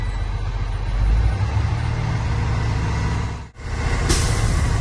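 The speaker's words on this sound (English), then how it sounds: "Now I will rev my truck between 10 and 15 RPM, just so I can charge both of my tanks a little bit faster." A truck engine revs steadily at high idle to build air pressure in both brake tanks, a continuous low rumble that dips briefly near the end, followed by a hiss as the air governor cuts off.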